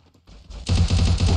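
Rapid burst of gunfire in a multiplayer shooter video game, starting faint and swelling into a loud, rhythmic string of closely spaced shots.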